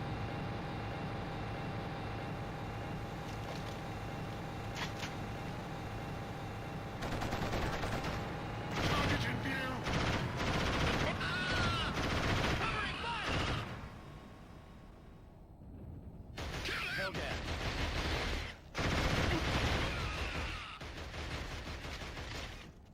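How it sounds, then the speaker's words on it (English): Machine gun fire in the video game Killzone (2004) rattles out in heavy sustained bursts, loud and near, separated by short pauses, over a low droning background hum. "That way we can take him down with the MG."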